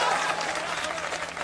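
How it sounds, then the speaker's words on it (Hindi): Steady applause from an audience at a political gathering, continuous clapping at moderate loudness filling the whole moment with crowd noise beneath it. "ताली तो बजाते रहिए कम से कम।"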